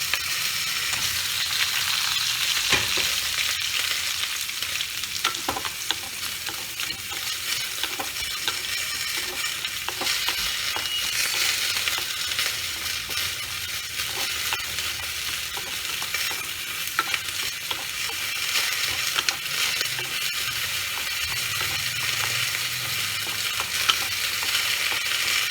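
Lentil badis fry in hot oil for a Bengali tyangra fish curry, giving a continuous close sizzle broken by scattered spattering pops and stirring scrapes, with no talking.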